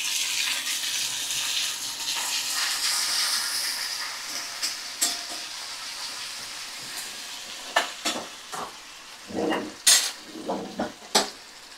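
Chopped tomato frying with ginger-garlic paste in a pan, a steady close sizzle fading over the first seconds, then a run of sharp spoon scrapes and stirring knocks against the pan, with no talk.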